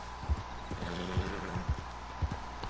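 Steady clip-clop of horse hooves trotting at a moderate pace in Red Dead Redemption 2 Online, with a faint whinny and low background game ambience.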